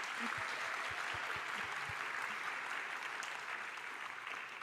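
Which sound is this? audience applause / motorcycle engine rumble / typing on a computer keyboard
audience applause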